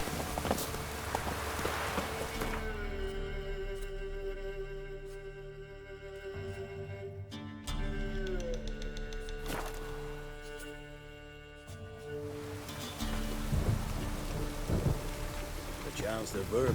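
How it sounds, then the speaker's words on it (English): Steady heavy rain pours throughout in The Witcher 3: Wild Hunt, with low rumbling underneath and a shifting game soundtrack of sustained tones; no talking. "Chance the vermin will stay in the castle with it pouring like this."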